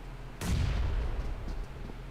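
A grenade exploding in PUBG Mobile during a pro league match, one sudden loud blast followed by a rumbling decay that fades over about two seconds.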